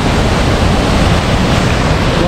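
A fast, bubbling mountain stream rushes over boulders on a trek to Chitta Katha Lake, a loud, dense, unbroken roar of water filling the whole stretch.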